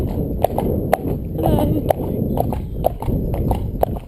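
Hooves clop at a slow, even walking pace on a hard surface, with a person speaking briefly over the steps.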